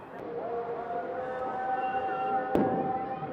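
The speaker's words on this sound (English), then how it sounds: "The call to prayer pierced by explosions and gunfire" Gunfire and explosions sound in war-torn Aleppo, Syria, with a sharp crack and a couple of distant bangs cutting through a sustained call to prayer that drones on in the background.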